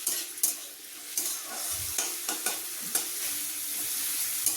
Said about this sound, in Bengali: এবার বরবটি আর এখানে গাজরটাকে আমি হালকা করে একটু হাই ফ্লেমে ভেজে নেব।